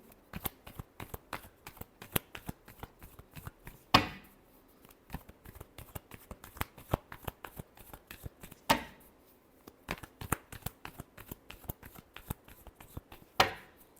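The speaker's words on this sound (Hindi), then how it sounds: "Last shuffle." A deck of tarot cards is shuffled close up, with quick rhythmic flicks of the cards and louder riffle bursts at intervals. No voices are heard.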